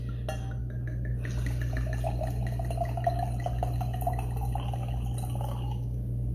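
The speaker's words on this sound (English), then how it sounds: "I'm gonna go ahead and pour my bottle, my glass, not the bottle." Wine poured from a bottle into a glass: a steady liquid gurgle and trickle of filling lasting several seconds, heard close up over a constant low hum.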